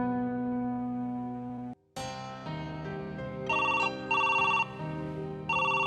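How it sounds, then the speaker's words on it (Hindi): A telephone rings in a home, a steady electronic ringtone that cuts briefly, then resumes in repeating bursts of bright tones, loud and close, with no talking. "लो आ गया फोन। लो ये लो, बैल जा रही है।"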